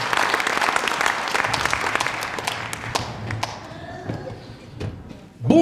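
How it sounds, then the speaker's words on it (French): An audience at a cabaret show applauds, with dense, loud clapping that fills the room and gradually thins and fades toward the end. "je ne sais pas si on doit vraiment applaudir Monsieur Laflemme"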